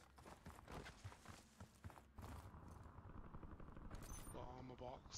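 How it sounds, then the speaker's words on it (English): Rapid gunfire in a Call of Duty Black Ops 6 warzone match crackles in bursts amid shuffling movement and clopping steps, with voices talking over the fighting. "Shots on the left."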